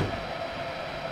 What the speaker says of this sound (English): This is your Amtrak train 1-72 to Boston.